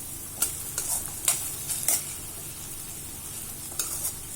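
Okra being sautéed in oil gives a steady soft sizzle, broken by a handful of spaced scraping strokes of a spatula against the pan, with no speech.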